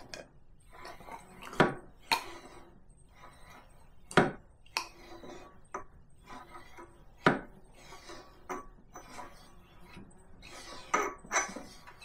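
Irregular clanks and rubbing strokes come from pumping the front fork tube of a Harley-Davidson Street Glide during a Progressive suspension install to settle the oil, with sharp metallic knocks scattered among quieter scrapes and no voice heard.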